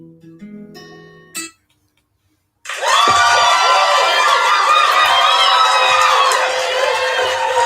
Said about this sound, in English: Okay, Trey, that was your big, nice, wonderful applause for following the security lady.